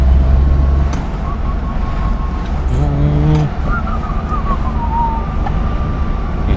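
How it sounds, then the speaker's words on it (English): An Indian car engine cruising in third gear hums with a steady low drone and a thin high whistle running through it, loud and close, joined by a brief voice and a short tonal chirp midway. "तो ये जो इंडियन इंजन की विसल है ना, ये बड़ी सेक्सी है यार"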